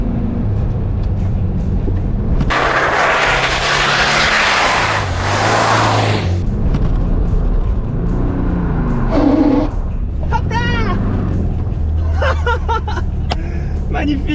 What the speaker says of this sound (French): le petit bruit qu'on a entendu, c'est parce que j'ai mis des pneus un peu plus larges, donc ça vient faire un petit bisou à la carrosserie à l'intérieur